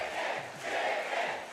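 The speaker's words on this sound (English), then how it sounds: "I hope you guys at home can hear the crowd too. They are hyped on this." An excited esports crowd at a Splatoon 3 tournament roars in a short, dense wash of cheering and shouting that swells and stays loud throughout.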